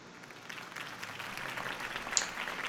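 A crowd applauds after a campaign speech in the Batman Telltale video game, a faint hiss of clapping that builds gradually, with a brief sharper click near the end.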